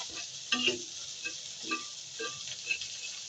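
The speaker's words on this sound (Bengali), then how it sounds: "আমার শুটকিগুলো ভাজা হচ্ছে।" Soft, continuous sizzle of dried fish frying, with a few light taps and scrapes of stirring, fairly quiet and close.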